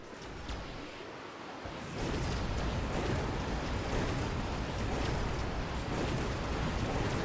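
Explosions and gunfire from the sci-fi strategy game Mechabellum, a dense, continuous roar of blasts and shots that swells louder after the first two seconds and stays heavy throughout.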